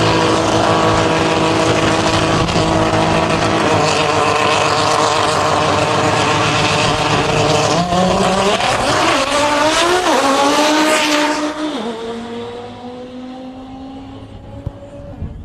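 Audi TTRS and Corvette race cars at a drag-style race event, loud roaring engines climbing through gears with rising pitch, then fading into the distance as they pull away.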